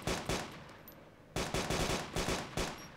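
Gunfire in the military video game Arma II comes as rapid automatic bursts of sharp, loud shots, broken by a short pause and then resuming in a quick rhythmic string.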